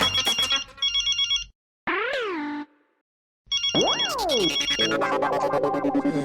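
A mobile phone rings with a loud, synthetic electronic ringtone: bursts of beeping tones, a short pause of silence, then sweeping melodic phrases that return and fill the rest of the clip.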